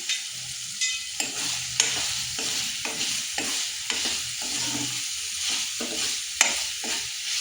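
Mushrooms fry in oil in a kadai while a spatula scrapes and stirs them in repeated rhythmic strokes, each pass rising over a steady close sizzle; no one speaks.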